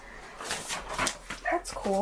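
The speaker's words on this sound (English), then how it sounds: "He is barking up a storm." A dog barks and yips a few times in the background, with harmonic bursts toward the end, while a person talks over it at moderate level.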